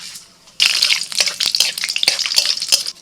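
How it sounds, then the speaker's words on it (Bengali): Dry red chillies, bay leaf and five-spice seeds hit hot mustard oil in a pan with a sudden loud sizzle that keeps crackling and spitting steadily, close up and with no talking. "কড়াইতে সরষের তেল দিয়েছি, তেলের মধ্যে ফোড়নে দিচ্ছি শুকনো লঙ্কা,"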